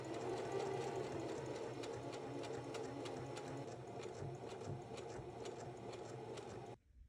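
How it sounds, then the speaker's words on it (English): A sewing machine runs a steady base stitch around the edge of a reusable cloth pad, a close, even whirring that is fairly quiet and continuous, then stops abruptly near the end. "And then I'm going to do a base stitch all the way around."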